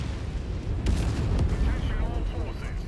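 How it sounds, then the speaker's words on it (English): Artillery barrage in the mech combat game Mechwarrior 5, a heavy booming burst that erupts about a second in and rumbles on loudly with layered blasts and crackling, a voice talking over the top. "Oh, and there's the artillery."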